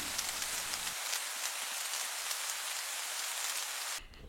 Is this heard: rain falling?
yes